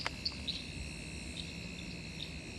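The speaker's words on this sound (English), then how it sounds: "I think probably some of those Wallam sedge frogs out there, Latoria phalanx at the moment" Wallum sedge frogs (Litoria fallax) call in wetland bush at Karawatha at night, giving a few short high chirps over a steady shrill chorus and soft background noise.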